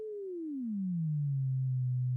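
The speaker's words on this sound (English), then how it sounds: "So I am generating right now a 440 Hz sine wave." A pure sine tone from a function generator starts near 440 Hz and glides smoothly down to a much lower steady pitch, then holds there. It is clean, continuous and alone, with no other sounds.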